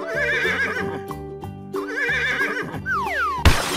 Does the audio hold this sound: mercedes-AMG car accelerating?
no